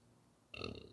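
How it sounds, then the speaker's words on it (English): A single short, quiet, low burp lasting under half a second after near silence. "That was a real low-key burp if you didn't hear that."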